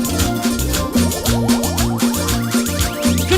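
A Peruvian song plays continuously at steady volume, with a full band texture, a driving rhythmic bass pulse and repeating melodic runs.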